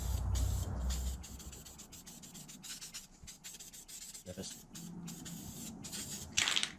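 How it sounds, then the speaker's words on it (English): An aerosol coating is sprayed across a gasket in steady hissing passes, close and fairly quiet, with short breaks between bursts. "So we'll give that a spray over now."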